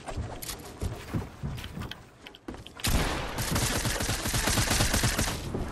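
Video game gunfire in a 1v1 match: scattered, close shots at first, then a dense, loud stream of rapid automatic fire that continues without a break to the end.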